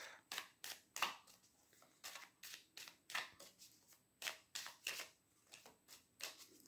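Oracle cards are shuffled and cut by hand, a quick series of crisp riffling flicks and soft slaps, close and fairly quiet, in a regular uneven rhythm with brief gaps.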